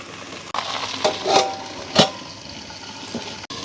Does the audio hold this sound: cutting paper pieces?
no